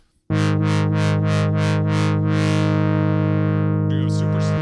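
A loud sustained tone from a vintage Kawai K3 synthesizer whose brightness swells and falls in a slow, regular pulsing rhythm from a triangle LFO, then smooths out near the end.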